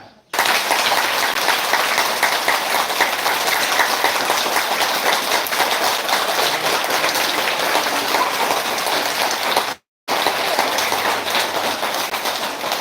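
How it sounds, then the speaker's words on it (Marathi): An audience claps loudly for their parents at a live yoga session, a dense, steady roar of applause that runs nearly nonstop with one brief break before resuming. "आता टाळी कुणासाठी वाजवायची तुमच्या आई वडिलांच्यासाठी वाजवायची"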